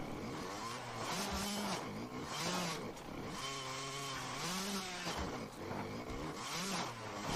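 An enduro motorcycle engine in the video game MXGP 2021 revs hard and continuously, its buzzing pitch rising and falling in repeated throttle surges as the bike climbs rough terrain, loud and close with no voices.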